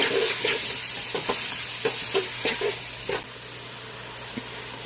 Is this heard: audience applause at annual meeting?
no